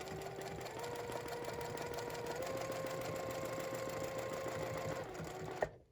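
A Juki TL-2010Q sewing machine stitches steadily while ruler quilting, a fast even mechanical whir close up that shifts pitch slightly as speed changes and ends with a sharp click.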